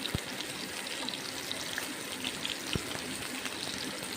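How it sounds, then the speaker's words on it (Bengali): Pointed gourds (potol) fry in mustard oil in a kadai, giving a steady, soft, even sizzle with a couple of faint taps. "ভালো করে ভেজে নিচ্ছি পটলগুলো সর্ষের তেলে"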